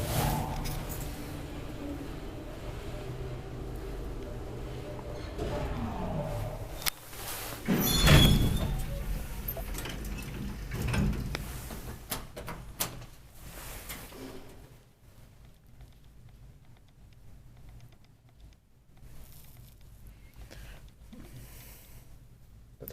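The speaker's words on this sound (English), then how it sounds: "It wants to close the doors." Doors of a 1980 Kone traction elevator in Toritie 8, Siilinjärvi closing slowly, with a loud rumbling thud midway followed by quieter mechanical whirring, while people talk nearby.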